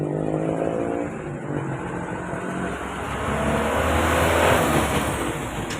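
Motorcycles and other traffic pass along a busy main road outside a motorbike repair shop, a steady close engine roar that swells toward the end.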